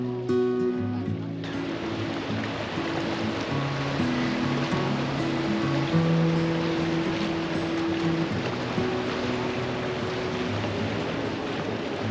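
Steady wash of water and lapping waves in the harbour of Dubrovnik's Old Town, with distant murmuring voices and faint tonal hums blending into a continuous busy background.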